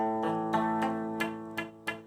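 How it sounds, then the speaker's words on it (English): A buzzy, fretted guitar chord from a song, with the index finger leaning on the first string, strummed several times in a steady rhythm, close and ringing between strums. "my index finger is leaning down on the first string"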